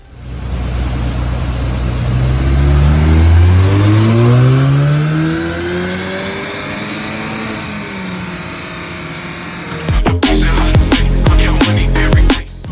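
A Ford Focus ST with a stage 1 tune and stock intake makes a full power pull on a dyno, its engine note rising in one long loud sweep before dropping off into rapid sharp clicks and pops.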